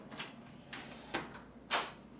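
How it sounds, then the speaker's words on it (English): A door is pushed open over a door-stop wedge on carpet, making a series of four soft scraping swishes that build to a louder final slide, close and with no talk. "the door just slid right over the top of the wedge"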